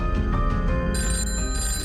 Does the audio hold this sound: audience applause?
no